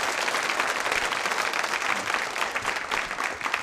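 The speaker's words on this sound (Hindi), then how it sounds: "तालियां बजाइए इस जानकारी के लिए आप।" Dense, steady clapping from an audience at a nursing college quiz show fills the whole stretch, loud and continuous with no voices on top.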